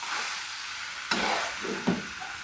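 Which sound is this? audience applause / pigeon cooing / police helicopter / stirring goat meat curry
stirring goat meat curry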